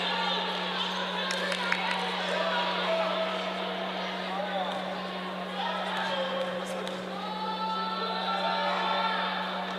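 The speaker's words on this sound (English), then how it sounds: "Ravens crowd starting to get into it a little bit" Crowd noise in a women's college basketball gym, a steady murmur with ball bounces and squeaks, under continuous play-by-play commentary and a constant electrical hum.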